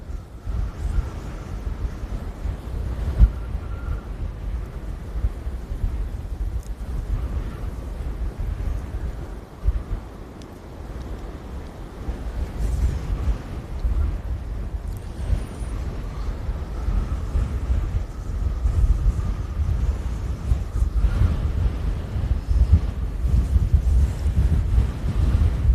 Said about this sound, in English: the wind is nice though